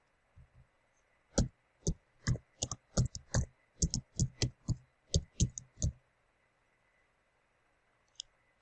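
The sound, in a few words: typing on a computer keyboard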